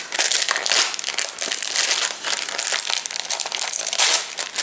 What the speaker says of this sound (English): I'm gonna have to rip this one open.